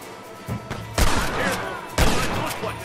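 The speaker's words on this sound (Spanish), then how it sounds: "Uy, si aguanta los tiros el tipo este" Gunfire in the video game Red Dead Redemption, two loud, booming shots about a second apart with a softer report before them, each trailing off into reverberation.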